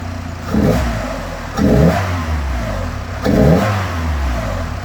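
Tofaş car engine revved hard three times in open air, after a throttle pedal position sensor replacement and fitted with an open air filter; each rising vroom swells and falls back to a steady idle between bursts.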